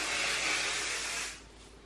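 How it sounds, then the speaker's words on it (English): Aquage finishing hairspray sprayed onto a curly pixie cut: one long, close, loud aerosol hiss for over a second, then it cuts off. "I'm gonna go ahead and spray the heck out of it because I want it to stay."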